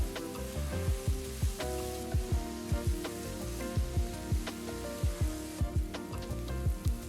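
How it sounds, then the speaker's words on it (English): Three large finely chopped onions sauté in a pan with a steady close hiss and crackle, stirred in a regular rhythm of soft scrapes, with no talking and music playing beneath. "Saute the onions till they turn to a lovely golden brown color."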